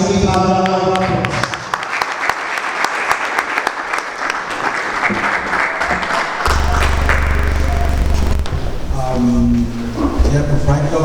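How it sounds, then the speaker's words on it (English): Audience applause at a graduation ceremony for Holy Cross International College's class of 2020, loud sustained clapping from a crowd, with a voice speaking over the hall partway through. "Please, can we give our round of applause?"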